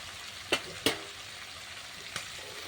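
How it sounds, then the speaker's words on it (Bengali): Chicken sizzles quietly under a lid as it is slow-fried into kosha, with a soft steady crackle and a few sharp pops and spatters standing out. "এভাবে আমি চিকেনটাকে ভালো করে ঢাকা দিয়ে দিয়ে কষিয়ে নেব"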